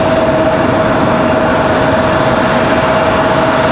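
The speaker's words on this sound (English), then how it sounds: "Looks like American 1888 from DFW coming in right here. 737 MAX 8 for American Airlines." An American Airlines Boeing 737 MAX 8 on approach to land at Raleigh-Durham, runway 23 right, produces a steady, loud jet roar with a faint high whine running through it.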